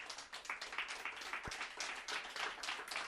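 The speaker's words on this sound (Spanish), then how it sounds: "Dele un aplauso al Señor." A church congregation applauding during a Spanish-language sermon, a continuous wash of many hands clapping at moderate loudness with a single low thump near the middle.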